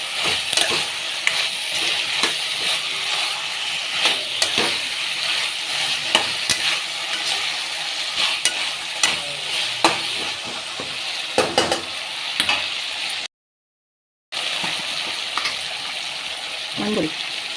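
Chopped vegetables for an egg and drumstick curry sauté in a hot pan, a steady dense sizzle broken by stirring scrapes and clicks, with a brief dropout near the end.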